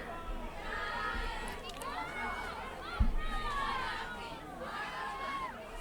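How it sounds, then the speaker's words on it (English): A football stadium crowd with a blowout score on the board stirs to life in a broad, steady murmur of cheers and chatter, with a single thud near the middle and a commentator talking over it. "crowd starting to come alive"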